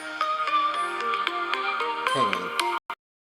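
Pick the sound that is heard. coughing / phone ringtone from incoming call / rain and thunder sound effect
phone ringtone from incoming call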